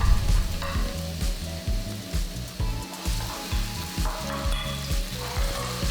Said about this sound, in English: Now we're gonna throw in the chopped garlic. And add the shallots.